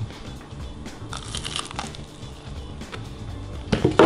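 Faint crisp crunching and crackling of deep-fried worms being chewed close up, with a louder crunchy burst at the end.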